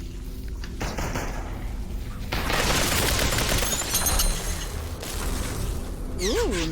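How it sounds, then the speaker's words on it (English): Dense, continuous gunfire from the VR battle royale game Population One, with rapid overlapping shots and mechanical clatter throughout, loud and close, ending with a rising whistling tone. "Someone else is shooting right here."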